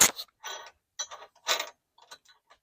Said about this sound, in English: we're gonna ratchet all those nuts